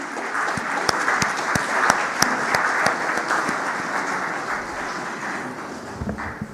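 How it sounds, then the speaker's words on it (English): An audience claps to welcome the RBI Governor at the inaugural session of the FIBAC 2025 banking conference, with steady moderate applause in a hall, a few sharper individual claps standing out, then slowly thinning. "Let us welcome him with a resounding of claps,"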